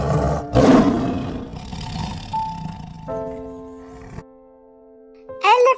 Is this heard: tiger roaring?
yes